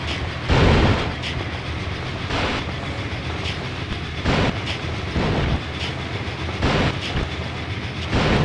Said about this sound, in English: Attack the steam train by ramming it through.